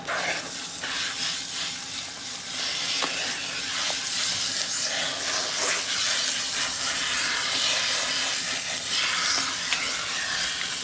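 Salon hair steamer giving off a steady, continuous hiss at moderate loudness, with faint small clicks and no talking.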